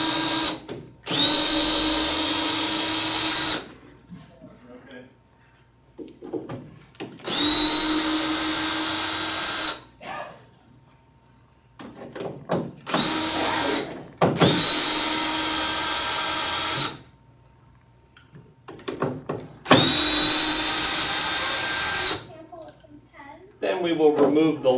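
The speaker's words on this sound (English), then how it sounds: "if you have something powered, like an electric drill with a Phillips head bit" An electric drill with a Phillips head bit backs screws out of a shipping crate, sounding as five loud, close bursts of high whining spin, each a few seconds long with quiet gaps between. Someone talks during the gaps.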